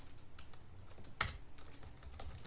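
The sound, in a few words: typing code on a computer keyboard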